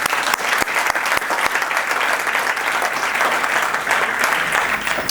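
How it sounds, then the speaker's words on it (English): Audience at a financial services launch event in Johannesburg applauding for a cricketer, a loud, dense and continuous round of clapping from many people, with a few sharper claps standing out near the start. "So please can we give JP Duminy a big round of applause."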